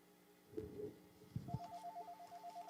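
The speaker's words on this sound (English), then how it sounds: "Oh, a phone call." Telephone ringtone starting after some faint thumps, a quiet warbling electronic ring pulsing in a regular rhythm.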